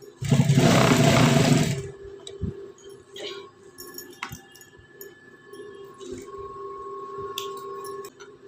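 A sewing machine stitches a folded blouse piece in a loud, steady whir for about two seconds near the start, then stops, leaving faint handling clicks and a low hum.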